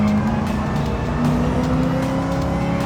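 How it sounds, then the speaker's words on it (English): A Dodge Challenger's engine in a VR driving game drones steadily and loudly throughout, a sustained accelerating growl with no voices. "When you're behind the wheel of the Challenger, you're not just driving a car, you're commanding a force of nature."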